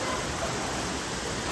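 Steady, dense rushing of a waterfall on Cane River in St. Thomas, Jamaica, loud and continuous with no breaks or voices.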